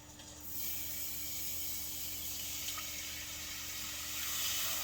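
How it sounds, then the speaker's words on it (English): Milk poured into a roux for a cheese sauce, a continuous soft hissing splash of liquid that starts abruptly and runs steadily to the end; no talking. "Okay, I'm going to add my milk."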